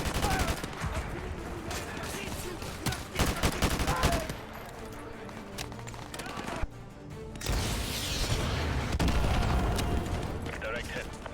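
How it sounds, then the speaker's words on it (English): In Modern Warfare 2 Remastered, AGM missiles launch and blast in a heavy barrage of rumbling explosions and rapid fire, loud and layered, with a short lull midway before the booming resumes under scattered voices. "AGM missiles online."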